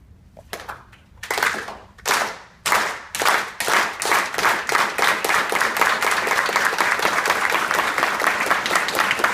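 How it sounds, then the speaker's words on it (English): An audience performs the Chicano hand clap at a campus speaking event, starting with a few slow, separated claps that speed up steadily into a rapid, dense, continuous clapping. "lead us in the Chicano hand clap"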